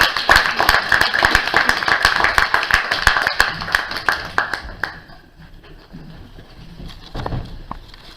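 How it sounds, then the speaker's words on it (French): Audience applause at a French poetry reading, a dense burst of many hands clapping for about five seconds, then dying down to scattered claps and room noise. "on a applaudi encore une fois"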